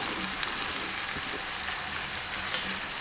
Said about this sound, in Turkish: Havucumu hafif pişirdikten sonra içine doğradığım pırasaları ilave edeceğim